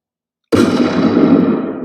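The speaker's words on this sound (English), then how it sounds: "There you got your gunshot if you needed it first." A single sharp Magnum gunshot sound effect bursts in after a half second of silence, followed by a loud, sustained rumbling echo that slowly tails off.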